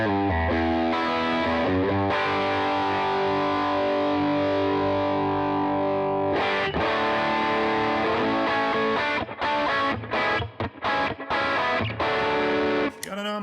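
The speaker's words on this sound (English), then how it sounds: "I like the distortion pedal." Electric guitar played through a distortion pedal in AmpliTube 5, with sustained distorted chords ringing out and then a run of short, choppy strummed stabs toward the end.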